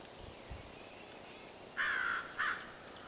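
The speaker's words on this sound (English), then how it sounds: "That's a crow." A crow outdoors giving two harsh caws, the first longer and the second shorter, moderately distant above a steady background hiss and faint low rumble.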